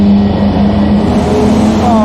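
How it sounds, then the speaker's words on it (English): Steady, loud wind roar rushes through a car window opened slightly inside a tunnel at about 50 mph, with a low engine drone running underneath throughout. "I'm sorry about the wind"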